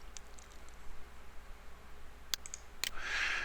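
Two sharp computer mouse clicks stand out close by against a quiet background hiss, followed by a brief soft rustle.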